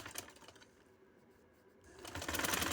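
A sewing machine runs quietly while stitching piping onto a dupatta, a soft steady whirr that dips in the middle and grows louder and busier toward the end.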